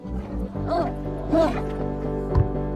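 A cartoon dog in a video game gives a few short barks and whimpering yelps, fairly close and mixed with game sounds and music.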